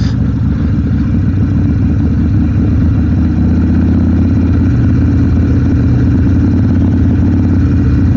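A Harley Davidson Sportster 1200 motorcycle engine drones steadily and loudly throughout a ride along country roads, a dense, constant rumble heard close up.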